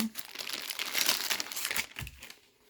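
Reusable folding shopping bags with built-in pockets are handled and folded up close, giving steady crinkly fabric rustling that swells in the middle and fades out at the end, with no talking.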